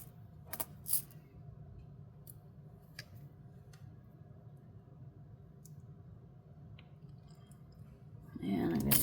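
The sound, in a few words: flush cutters snipping a jewelry head pin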